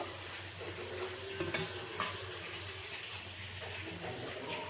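Taler bora, sweet palm fritters, fry in hot oil over medium heat with a soft continuous bubbling sizzle, fairly quiet and even, with a few faint clinks of utensils and no voices.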